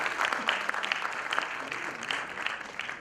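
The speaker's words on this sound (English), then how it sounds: "may we request you to please put your hands together for Mr. Pradeep Goyal" An audience at an alumni conclave breaks into steady, sustained applause. The dense clapping fills the hall evenly, with no voices standing out.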